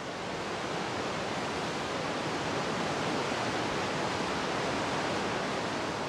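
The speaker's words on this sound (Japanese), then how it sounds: "氷河から溶け出た水が作る巨大な滝、グトルフォス" Gullfoss, a huge glacier-fed waterfall in Iceland, roars as a steady, dense wall of rushing, crashing water, loud and unbroken throughout with no voices.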